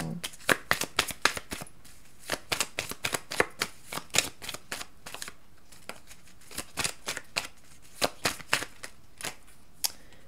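Tarot cards being shuffled by hand in a quiet room, with a steady series of crisp, close riffling snaps that come in quick clusters separated by short gaps.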